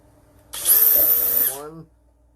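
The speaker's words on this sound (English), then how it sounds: "gonna drill the 4 holes for the speaker" A power drill bores a hole for a speaker in an Arcade1Up control board on a kitchen step workbench, a single loud high whine lasting about a second, then winding down as the motor slows.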